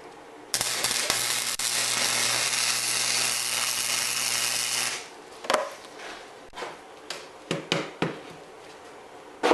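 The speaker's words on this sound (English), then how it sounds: "So I'm just gonna run a nice hot tack weld" Hot tack weld run around the head of an ice auger E-drill setup: a loud, close, steady crackling buzz lasts about four and a half seconds over a low hum, then stops. A scatter of sharp clicks and knocks follows.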